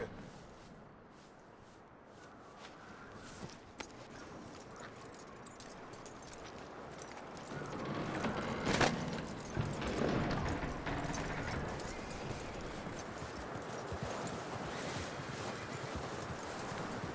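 A horse's hooves clip-clop at a steady walk in the video game Red Dead Redemption 2, faint at first and louder after several seconds, with a soft jangle of tack and no speech.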